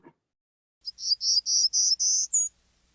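A warbler sings its alternate song form: a run of six rising, high-pitched buzzy notes ending in one clear, thin note, crisp and close against silence.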